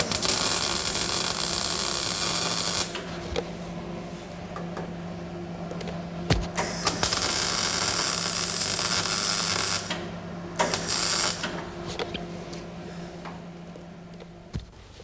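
Spot or arc welding on a car body panel during a repair, with repeated bursts of bright, crackling hiss separated by short pauses and a steady low electrical hum running underneath throughout.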